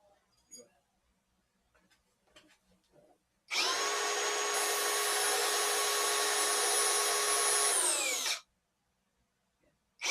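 A power tool grinds a tobacco pipe in one steady, loud, high-pitched whine lasting about five seconds, starting and stopping abruptly, with faint talk and small handling noises before it.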